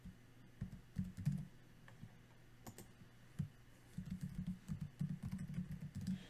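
Someone types on a computer keyboard while filling in boxes on a PowerPoint slide, quiet irregular bursts of key clicks with short pauses, close by and alone.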